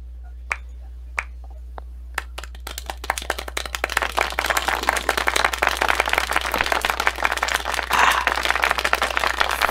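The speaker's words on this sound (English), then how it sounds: "Followed by a rainstorm of applause." Applause sound effect in the visual novel Nekopara Vol. 3, starting with a few isolated claps over a low hum, then swelling into a dense, continuous rain of clapping that stays loud to the end.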